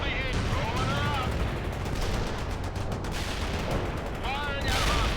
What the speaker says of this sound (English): Bradley returning fire at hostile.